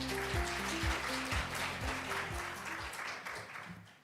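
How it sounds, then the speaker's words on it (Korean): An audience at a Korean conference on Cuban policosanol applauds as a research and development director is welcomed to the stage, with steady clapping under a repeating stepped musical fanfare. "큰 박수 부탁드립니다."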